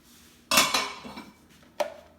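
Vegan ranch dressing ingredients being mixed in a bowl, with a loud clatter of a utensil against the bowl, a few quieter scrapes, then one more sharp knock near the end.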